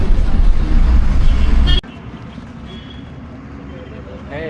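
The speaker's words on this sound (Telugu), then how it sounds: "బస్సు లోపలికి వెళ్తుంది." A bus drives in near the Adiyogi statue at the Isha Foundation, with loud engine and road rumble that cuts off abruptly partway through, leaving quieter ambience and murmuring voices.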